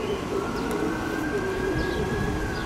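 Pigeons at a racing loft coo softly against steady outdoor background noise, with a faint rising siren-like tone running through the whole stretch.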